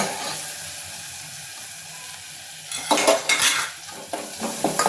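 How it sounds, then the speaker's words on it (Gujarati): Onions and asafoetida sauté in hot oil with turmeric and ginger-chili-garlic paste. A soft, steady sizzle gives way to a burst of loud utensil clatter and stirring scrapes in the final two seconds. "2 મિનિટ સાતળી એમાં નાખી દઈશું આપણે ડુંગળી"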